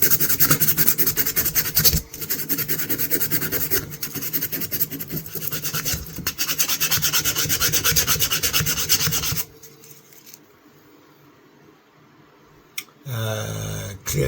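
Rusty metal is scrubbed clean before epoxy is applied, making loud, continuous abrasive rubbing and scraping strokes for about nine seconds, then near silence, then a short burst of scraping at the end.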